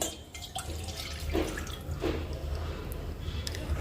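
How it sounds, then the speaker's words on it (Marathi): Milk splashes and trickles steadily into a pot, with a few brighter drips standing out over a continuous low pour. "दूध आहे ना पातेल्यामध्ये ओतायचं आहे"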